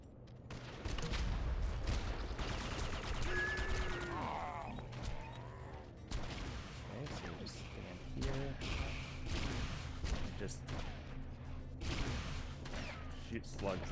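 Gunfire in the PS2 shooter Red Faction, with a dense, chaotic barrage of close, loud shots and crashes running throughout amid other game noise and possible voices.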